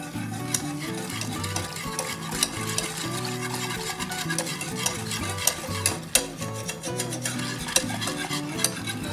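Cream (20%), cocoa and sugar for a brownie glaze are whisked in a saucepan, making continuous rapid stirring swishes and light metallic clinks against the pan, close and even.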